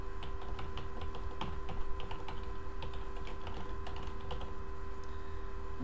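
Computer keyboard typing of a passphrase in KeePass, a steady run of close, quick key clicks with small pauses over a constant electronic hum, no voices.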